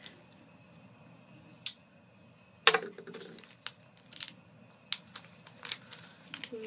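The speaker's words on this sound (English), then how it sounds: "Just cut this real quick." Packaging for a Traxxas Stampede VXL upgrade part being cut open, likely with scissors: a quiet room with a few sharp snips and crisp plastic crackles, spaced irregularly over several seconds, no talking.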